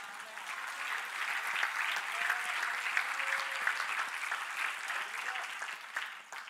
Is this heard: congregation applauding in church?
yes